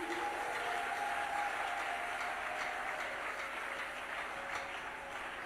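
A church congregation in Kinshasa claps steadily after a preacher's call to acclaim Jesus, a dense continuous wash of applause from many hands at moderate distance that holds evenly and tapers only slightly toward the end.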